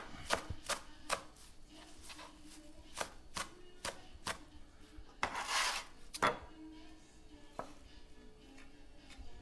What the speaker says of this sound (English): Next we're going to do our cilantro. Just going to give this a nice coarse chop.